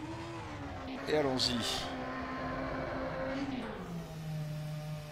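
A Ferrari F2007 Formula 1 car's V8 engine at Melbourne in rFactor 2, droning and revving with rising and falling pitch at close range, while someone speaks briefly over it.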